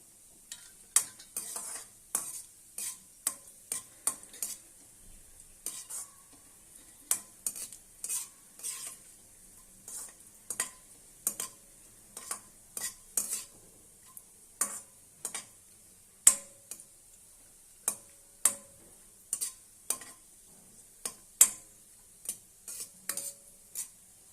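Raisins fry in a pan for ravva laddu while a spoon stirs, producing a soft sizzle under repeated crisp scraping taps in an irregular rhythm.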